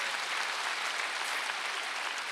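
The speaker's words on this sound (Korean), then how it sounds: "박수를 하세요" A church congregation applauds during a Wednesday worship service, a steady, even wash of many hands clapping at once that holds for the whole stretch with no voices.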